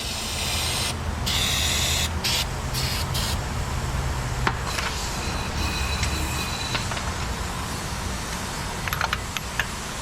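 Short bursts of aerosol lubricant spray onto seized bolts beneath a 7.3 Powerstroke Ford F350 Harley Davidson Edition truck during bearing repair, hissing in several brief puffs near the start over steady background noise.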